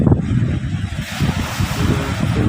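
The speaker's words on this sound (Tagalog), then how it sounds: "Daladala ng alon." Rushing flood water surges and churns close by during a typhoon, carrying garbage, a heavy rumbling wash of waves with wind buffeting the microphone.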